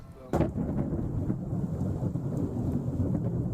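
Thunder from a lightning storm over Southern California, with a sharp loud crack followed by a deep rolling rumble that continues under steady rain.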